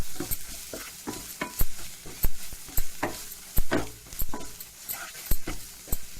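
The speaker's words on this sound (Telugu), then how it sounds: "దీన్ని కూడా మంచిగా ఇందులో ఇట్లా ఫ్రై చేసుకోవాలి." Chole masala fries in a pan under a loud, steady sizzle, while a spoon stirs and scrapes it in a quick, repeated rhythm of sharp taps against the metal, close up and with no talk.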